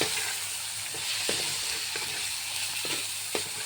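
Vegetables frying in a pan for bhaji, giving a constant sizzling hiss with a few scraping stirs. The sound is close and moderately loud, and no one speaks.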